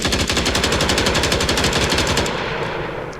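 Rifle firing full-auto in an Unreal Engine 4 shooter game, a loud, steady stream of rapid shots for about two seconds before it stops and fades out, with no talking.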